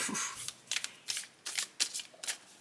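Star Trek: The Next Generation tarot cards being shuffled in several short riffling bursts with brief pauses between, close and moderately quiet, with no talking.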